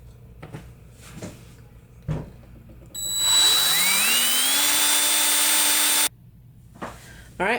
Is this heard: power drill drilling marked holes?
yes